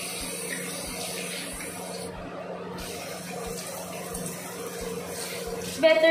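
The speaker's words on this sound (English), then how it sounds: "you can wash your hands now. So, remove all the soap." Tap water runs steadily into a sink during handwashing, a close continuous splash with a faint low hum beneath and a brief clatter near the end.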